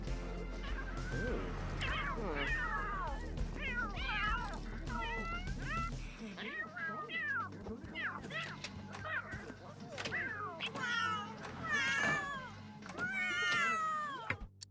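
Cats in The Sims 3 video game meowing repeatedly, a rapid series of close, loud yowls and meows with rising and falling pitch, some overlapping, continuing without pause.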